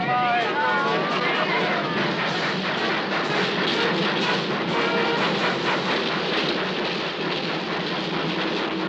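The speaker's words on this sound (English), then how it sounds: "Here comes the train!" A train rumbles past close by with rattling wheels and screeching metal, loud and continuous throughout.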